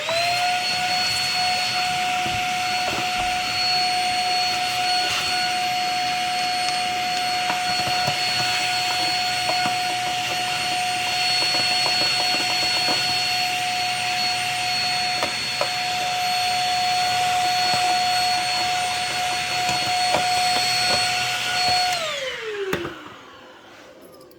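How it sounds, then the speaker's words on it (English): A vacuum cleaner sucks lint out of a clothes dryer, running steadily with a loud, high whine and roaring airflow for a long stretch, then the motor shuts off and winds down at the end. "And so we'll vacuum that out of there."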